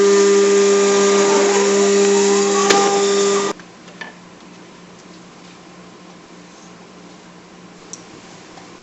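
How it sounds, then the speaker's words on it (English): A machine cuts wooden laminates from a sheet for a bending form, a loud whining motor with a steady high tonal hum for about three and a half seconds, then cutting off into quiet room tone with faint ticks. "Now we're letting the machine cut the laminates for the form"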